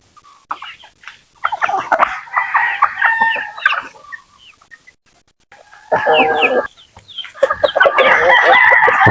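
Chickens and chicks cluck and call in a farmyard, loud and close, in two busy bursts separated by a quieter pause, with a rooster-like crow mixed in.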